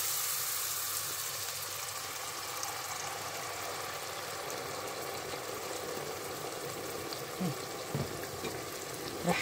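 Tomato sauce sizzles in a hot pot while Egyptian kushari is cooked at home, a steady, dense frying hiss that runs throughout with a few small clicks near the end and no talking.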